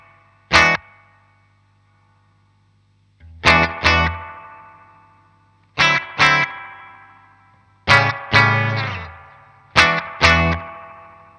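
Electric guitar played through a Danelectro Spring King Junior spring reverb pedal: five separate strummed chords, each ringing out with a long, splashy, slightly uneven reverb tail. Close and clear, with no voices.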